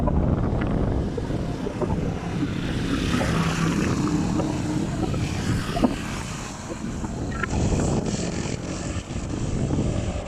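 Jets return overhead at a jet exhibition, a continuous roaring engine drone mixed with heavy wind buffeting on the microphone, loud and sustained throughout with no talking.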